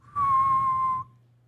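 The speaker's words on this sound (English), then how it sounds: "that type of whistle" One loud, sustained high whistle made by a person without fingers, lasting under a second at a steady pitch before cutting off cleanly.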